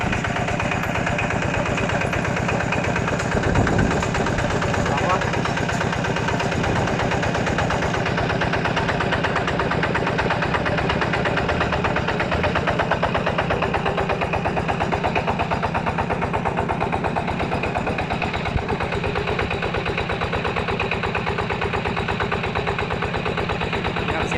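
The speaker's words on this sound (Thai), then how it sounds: "เดี๋ยวลองเครื่อง สตาร์ท ฟังเสียงนะครับ" A Yanmar TF105 single-cylinder diesel engine idles steadily and close, a constant rapid chugging rattle with no voices.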